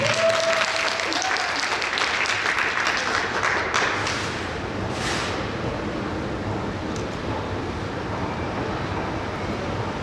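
A theatre audience at a talk concert for the play Bea applauds to introduce an actor's reading, a thick, continuous round of clapping that holds steady and softens only slightly over time.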